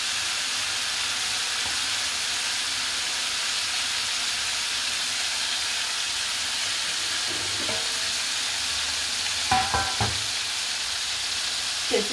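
Calamari tentacles fry in hot oil with a steady, dense sizzle and hiss throughout, a few brief clinks or stirring knocks near the end.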